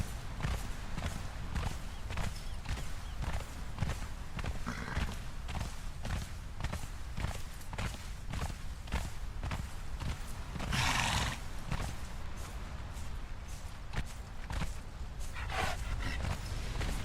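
In the video game Conan Exiles, rhythmic hoofbeats pound steadily throughout, with a horse's whinny rising briefly midway and faint movement sounds in the background.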